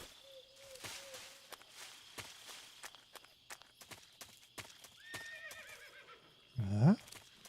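Horse in the Metal Gear Solid 3 video game walking with steady clip-clop hoofbeats, snorting and neighing, ending in a loud close whinny.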